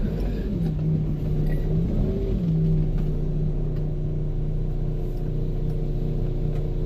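A US Army truck on hurricane night operations runs with a steady low engine rumble and a wavering tonal drone, briefly rising near the start, continuous and fairly close throughout.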